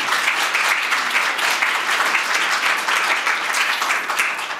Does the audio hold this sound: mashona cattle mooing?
no